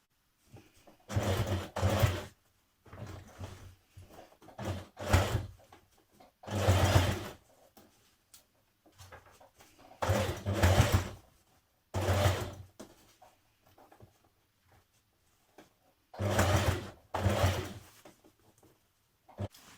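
A sewing machine stitches in the ditch of a skirt seam in short separate bursts, each a second or two of close, steady whirring, with quiet pauses between runs and no talk.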